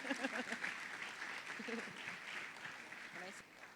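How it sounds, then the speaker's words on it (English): An audience applauds an award winner at a social innovation awards conference, with steady sustained clapping filling the room under a presenter's voice. "Please don't stop clapping until she gets here"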